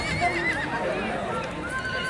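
A horse at a horse competition whinnies with a wavering call amid a busy outdoor crowd, with people talking nearby throughout.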